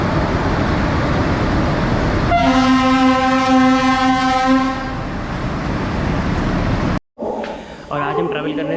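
The Jharkhand Sampark Kranti Express sounds a long, loud, steady horn blast over a constant rumble of train noise, which cuts off abruptly before a brief second burst of noise.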